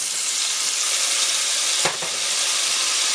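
Garlic and tomato fry in a hot pan, a steady loud sizzle and hiss throughout, with a brief stir or shift of the food near the middle.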